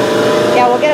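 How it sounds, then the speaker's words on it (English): An air compressor runs with a loud, steady mechanical hum and drone close by, while a person talks over it. "we'll get away from this compressor"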